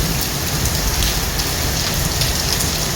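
Steady heavy rain pours down during a downpour in the UAE, a dense, loud, unbroken hiss close by with no voices.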